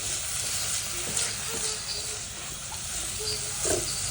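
Bitter gourd and other vegetables fry in oil with a steady, close sizzle that runs the whole time, with a few faint stirring knocks on top.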